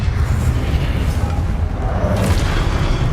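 In Hogwarts Legacy, a spell duel rumbles with continuous heavy low booms and thuds, a dense, loud, explosive wash of magic impacts that never drops to quiet and has no voices.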